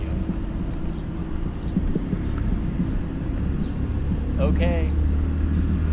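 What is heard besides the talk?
tuk-tuk auto rickshaw passing on street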